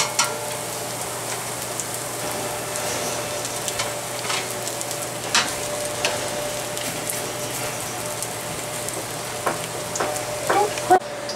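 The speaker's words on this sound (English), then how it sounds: "We're going to put these pork cutlets in here." Pork cutlets frying in a large pan of hot oil, a steady close sizzle and crackle with scattered spatters and pops throughout, no talking.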